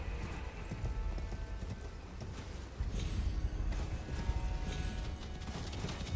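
Horse hooves clip-clopping at a steady fast gallop in the Elden Ring game, with rattling mechanical clatter and a faint whinny mixed in, continuous and moderately close with no talking.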